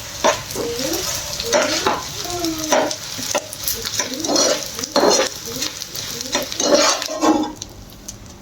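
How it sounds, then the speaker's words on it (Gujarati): Edible gum (gund) fries in a pan at home, sizzling steadily while a spoon repeatedly scrapes and stirs against the metal in uneven strokes, loud and close. "જો મમ્મી ગુંદને તળે છે અત્યારે."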